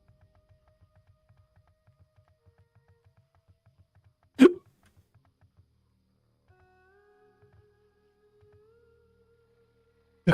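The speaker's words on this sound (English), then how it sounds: "Look at the hiccups." A single sharp hiccup rings out close and loud against near silence, followed by a faint hum and another abrupt burst at the very end.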